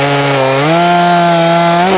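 A Stihl 620 chainsaw running steadily at high revs, loud and close, its pitch rising slightly and holding for a sustained cut through wood.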